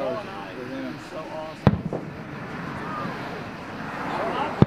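Fireworks at Rock Island go off in sharp booms at about 1.7 and 4.6 seconds, with a few softer pops between, over crowd chatter and wind noise.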